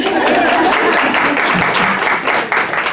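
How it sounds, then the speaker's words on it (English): Audience at a motivational talk breaking into a short round of applause, a dense, lively burst of many clapping hands close by with a few voices mixed in. "you guys deserve a little round of applause"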